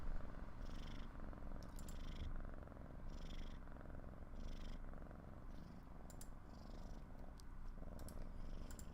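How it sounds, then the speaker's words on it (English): A female cat purrs loudly and close up in steady rhythmic waves of breathing, continuous for several seconds with a few faint clicks and no talking. "Can y'all hear the cat? She's like purring kind of loud."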